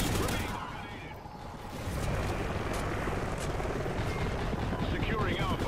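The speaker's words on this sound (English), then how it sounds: "I'm the lucky one that gets knocked down by the fucking chopper" A helicopter in a Call of Duty match, its steady rotor roar loud and continuous, overlaid with bursts of gunfire, while a player talks over it.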